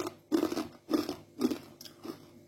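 Crispy Lombok kue tarik cake crunched between the teeth, four close, sharp crunchy bites in a steady rhythm, each fading quickly, with no talking.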